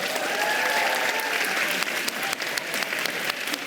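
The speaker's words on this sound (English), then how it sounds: "Please give a warm round of applause to the President of the European Parliament, Roberta Metsola." An audience in Brussels claps enthusiastically for the President of the European Parliament, a dense roar of applause that holds steady and then thins slightly toward the end.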